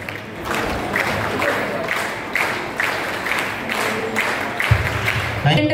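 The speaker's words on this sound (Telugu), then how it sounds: "అలాగే ఒక్కసారి వాసవి క్లాప్స్ 1 2 1 2 3" A group at a Vasavi and Vanitha club installation ceremony claps in a counted rhythmic pattern, bursts of claps recurring in regular sets over crowd murmur.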